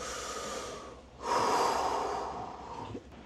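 One deep breathing exercise breath: a soft, fairly close breath, then a louder, long rushing exhale that fades out, with no talking.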